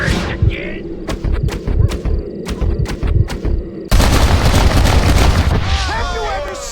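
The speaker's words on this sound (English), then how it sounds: "You think you can put a hole in a man's hat and just walk away, do you?" A revolver cracks repeatedly in Red Dead Redemption as shots are fired at a hat, a rapid string of sharp bangs followed by a louder burst and lingering noise, with voices talking around the shooting.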